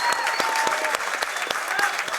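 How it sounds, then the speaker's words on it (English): A fight-night crowd at an amateur boxing event applauds both fighters after three rounds. The clapping is loud and dense and carries on steadily from start to finish. "let's give both fighters a big round of applause"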